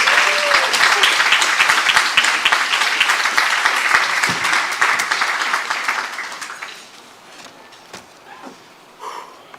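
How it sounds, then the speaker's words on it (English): Audience at a high school Hall of Fame induction ceremony applauds an inductee, a dense, loud wash of clapping that holds steady for several seconds, then thins and fades to scattered claps. "Let's give him a round of applause."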